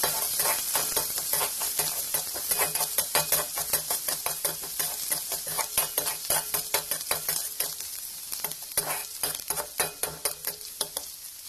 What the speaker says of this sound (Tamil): இப்போ நான் ஆனியன் ஆட் பண்ணிக்கிறேன். இதை நல்லா ஃப்ரை பண்ணிக்கோங்க